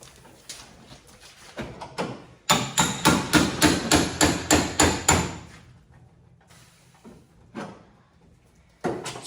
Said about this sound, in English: Sometimes it's easier to beat a punch down in there.